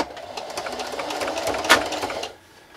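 A sewing machine backstitches fabric for a Halloween treat bag, a steady close whirring stitch that runs for about two seconds before stopping.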